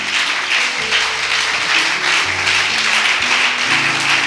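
A crowd at a mountain prayer gathering in Brazzaville claps in a steady, dense wash of applause, loud throughout, with faint low tones beneath.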